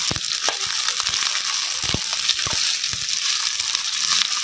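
Chicken fries in a hot pan for a family picnic meal, a steady bright sizzle broken by sharp crackles and pops, the sound of stirring close by, and no voices.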